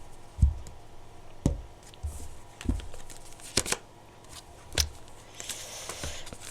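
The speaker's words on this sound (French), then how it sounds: "je vais rajouter encore quelques cartes avec le tarot" Tarot cards handled and shuffled at close range, soft papery slaps and riffles in irregular bursts with quieter rustling between them, no talking.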